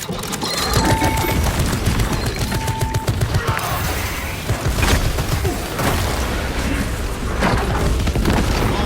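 Explosions and rapid gunfire in a Warhammer 40,000: Space Marine 2 battle as a tunnel substructure is demolished, a dense, loud, continuous roar of blasts and shots with distant bursts throughout.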